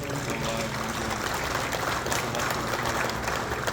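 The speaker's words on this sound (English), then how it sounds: "Applause is due." Audience applause for demonstrators at a National Trappers Association convention, a steady dense wash of many hands clapping throughout, loud and continuous with no pauses.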